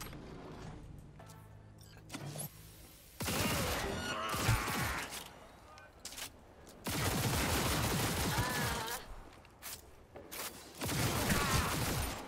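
Rapid bursts of pistol gunfire from the video game Cyberpunk 2077, loud clustered volleys separated by brief quieter gaps with mechanical clicks, running through a combat stretch.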